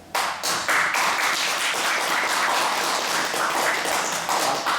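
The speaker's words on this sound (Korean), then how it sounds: "우리 박완성 선생께 큰 박수를 한번." Audience applause at a Korean lecture series, a dense, steady wash of clapping that starts abruptly and holds loud and even throughout, with no voices over it.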